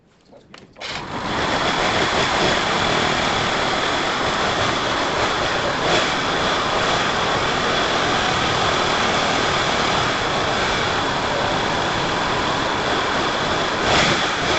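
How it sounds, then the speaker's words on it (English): Pulse Force 50cc two-stroke motorbike engine starting up, then idling slightly low with a steady, loud, buzzy drone close by that holds constant throughout, with no talking. "I'm going to just fire it up, have a play with it and see what's going on."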